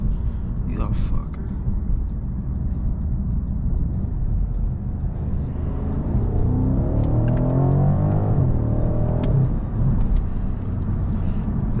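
A tuned BMW M550i accelerating hard, its engine a deep, loud rumble that rises in pitch through the middle of the pull and then settles, heard from inside the cabin with constant road and wind roar.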